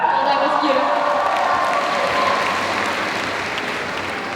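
Applause from an audience at a CCXP convention panel, a loud, dense wash of clapping that fills the whole clip and tapers slightly toward the end.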